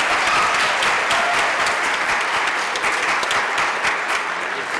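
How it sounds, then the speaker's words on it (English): A youth theater audience claps steadily, a dense wash of applause that holds at an even, fairly loud level throughout. "So a round of applause for them."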